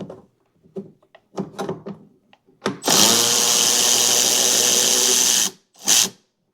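On a Spartan mower, a power tool with a 9mm deep well socket buzzes loudly for about two and a half seconds to remove a lock nut. Scattered clicks and taps come before it and a short burst follows.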